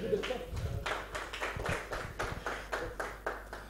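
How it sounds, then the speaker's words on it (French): Scattered clapping from a conference audience in Tunisia, a series of distinct claps in an uneven rhythm, moderately faint. "je vous applaudis"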